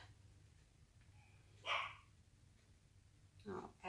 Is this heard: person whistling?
no